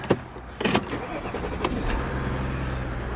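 Audi A6 2.7 TDI diesel with automatic gearbox cranks over in two quick bursts, catches, and settles into a steady low idle, heard close from inside the car.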